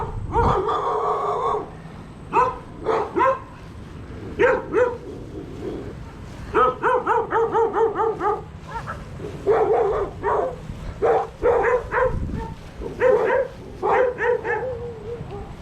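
Several dogs bark and yip in excited bursts near an empty beach restaurant on Saipan, with whimpers between the volleys and a rooster faintly in the background.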